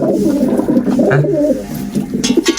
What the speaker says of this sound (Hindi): ये भी नर निकला, ये भी घुटक रहा था